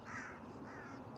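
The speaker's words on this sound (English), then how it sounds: "You can hear the crows in the background." Crows caw at a distance outdoors on a spring day in the countryside, their calls faint and drawn out over steady open-air background noise.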